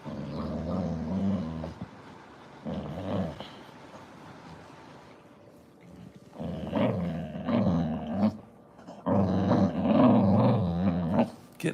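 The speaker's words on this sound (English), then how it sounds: "Look at this dog." A dog growls while playing, in long, rumbling, throaty bursts close by, separated by short pauses and building louder toward the end.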